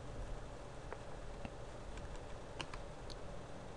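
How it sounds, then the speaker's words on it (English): Soft keystrokes on a computer keyboard as someone types a link, scattered taps and clicks over a faint background hiss, quiet and close. "I'm just gonna go ahead and type this link or copy paste it"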